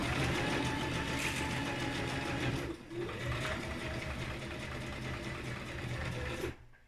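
A sewing machine stitching jersey fabric, running in a steady close mechanical whir with a brief dip partway through before stopping at the end; no speech.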